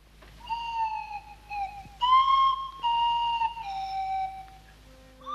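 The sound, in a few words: Swanee whistle, sound of the Clangers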